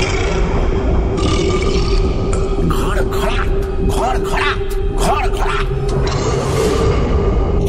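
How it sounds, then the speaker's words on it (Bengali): A giant's deep burp, performed as a sound effect in a Bengali audio drama, rumbles loud and continuous beneath a low hum, with gruff, growling bursts and echoing grunts rising in the middle. "দৈত্য ঢেকুর তুলেছে"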